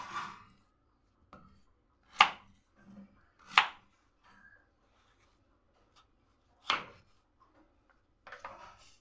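A knife chops potatoes into quarters on a cutting board in a few sharp, separate strikes with pauses between, close and crisp in a quiet room.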